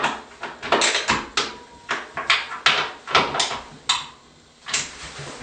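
The diamond corner seat of an Onyx shower is tightened, giving a string of about a dozen short creaking, scraping strokes in an irregular rhythm, close and moderately loud, with no talk.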